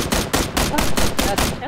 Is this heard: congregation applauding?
no